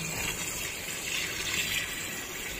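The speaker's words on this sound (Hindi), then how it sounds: "ये मैनुअल पानी जो हम डाल रहे हैं पाइप से" Water gushes steadily from a pipe into the drum of a fully automatic washing machine during manual filling, a continuous close hiss and rush with no pauses or talk.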